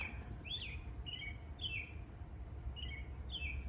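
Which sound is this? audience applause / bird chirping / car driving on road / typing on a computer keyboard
bird chirping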